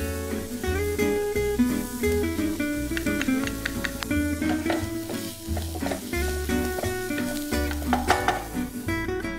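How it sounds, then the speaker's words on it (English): Chopped onions and garlic sizzling in hot oil in a pan, a steady frying hiss running under prominent background music throughout. "Once the oil is nice and hot, I'm going to add the onions. Just cook the onions for a few seconds."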